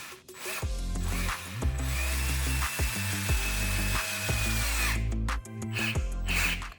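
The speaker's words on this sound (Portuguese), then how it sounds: "a gente coloca o parafuso bem no centro aqui e dá uma pontada nele" A power drill drives a screw into a wooden plant-pot stand, its motor whirring in repeated loud bursts with short pauses and low grinding as the screw bites into the wood; no one speaks.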